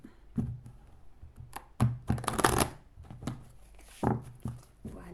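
Tarot cards shuffled by hand in bursts of riffling and thumping against a surface, close and fairly loud with short pauses between, no voices.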